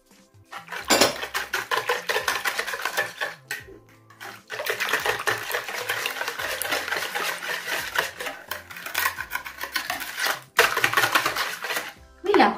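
Sugar and eggs are stirred in a bowl for Easter kulich dough, giving a steady run of scraping, clinking whisk-against-bowl strokes near and fairly loud, with a few short pauses.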